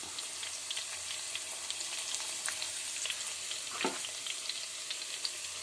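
Chopped shallots fry in a pan for a soya chunks fry, a steady close sizzle with light stirring clicks and one brief scrape, and no voices.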